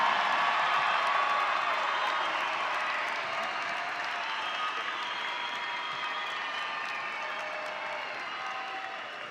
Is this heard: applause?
yes